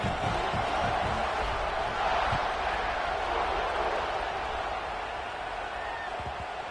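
A big college football stadium crowd at a Georgia versus Alabama game just before kickoff, a broad, steady roar of massed voices with scattered shouts, continuous and fairly loud.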